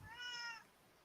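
A pet cat gives a single short, whining meow up close, quiet and alone, fading out after about half a second.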